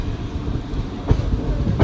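The Kottayam–Nilambur Express rolls into Irinjalakuda railway station with a steady low rumble of wheels on rails, marked by a couple of sharper clacks as the carriages pass over joints.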